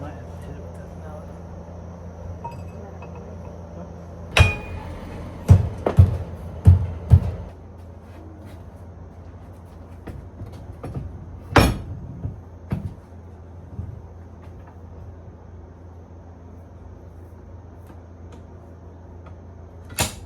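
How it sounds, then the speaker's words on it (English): A mallet strikes an end cap onto a tie rod hydraulic cylinder during a repair, a burst of four or five sharp knocks in quick succession followed by a couple of isolated taps, close and fairly loud over low background hum. "Okay, now we're going to put this end cap on. You might have to hit it with that mallet."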